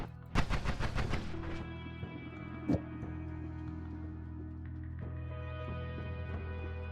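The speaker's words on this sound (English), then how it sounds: "this has a continuous fire of bullets" Rapid video game bullet fire in a fast burst of distinct shots at the start, followed by a couple of isolated pops over a humming game background.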